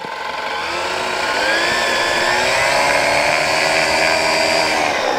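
Flylight ADAM microlight aircraft engine running steadily before takeoff, a loud, sustained buzzing drone with high harmonic whine that swells slightly and holds constant throughout.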